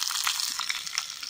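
Steady crackling sizzle of onions frying in hot oil in miniature cookware, close and continuous with no voices.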